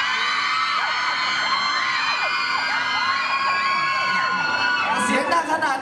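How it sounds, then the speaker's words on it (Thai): A live concert audience screams together on a three-count, a loud sustained wall of high shrieks and cheers, with a brief burst of sharper noise near the end. "นับ1 2 3แล้วกรี๊ดพร้อมกัน"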